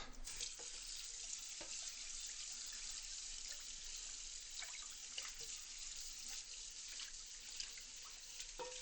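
Tap water runs steadily into a kitchen sink while a cooking pan is washed under it, a constant close hiss of flowing water with occasional clinks and splashes, no voices.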